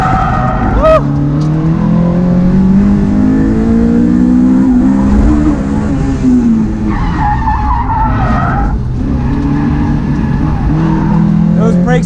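A Honda S2000 with a new engine setup making 238 horsepower at the wheels accelerates hard on a race track, its engine loud and close as it revs up and shifts, with tires squealing and skidding throughout.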